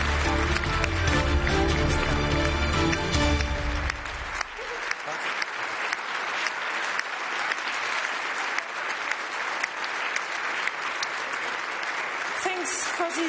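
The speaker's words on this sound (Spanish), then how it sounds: "Muestren su aprecio por este debate y los 6 candidatos con un aplauso" An audience applauds at the close of a televised European election debate with six candidates, sustained clapping filling the room; a host's voice is heard briefly at the start before the applause continues on its own.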